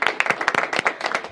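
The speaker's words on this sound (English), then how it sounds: "I think that deserves a huge round of applause." Scattered clapping from an audience at a ministerial press conference, individual hand claps fairly close and irregular, a short burst with no one talking.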